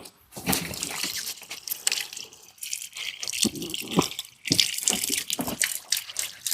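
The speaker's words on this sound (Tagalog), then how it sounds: "Linisin muna namin yung isda." Fish being washed in a river by hand, with irregular splashes, sloshing and dripping water in bursts and short pauses, close and moderately loud.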